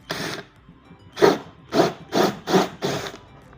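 Five or six short, rasping bursts of a drill with a hole saw cutting through styrofoam, each about a third of a second, separated by brief pauses, fairly close.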